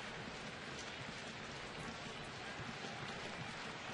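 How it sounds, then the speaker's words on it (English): Heavy rain pouring down during a night baseball game at Cleveland, a dense steady hiss of drops on surfaces that holds evenly for the whole stretch, with no talk over it. "Rain coming down as heavy as we have seen it so far here tonight."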